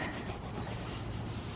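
Dried-on bugs being wiped off a car bumper with a cleaning cloth, a continuous close, loud scrubbing and rubbing sound with no talk.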